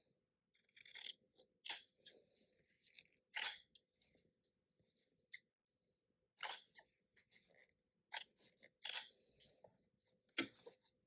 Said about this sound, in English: grab a pair of shears and cut out those 4 rectangles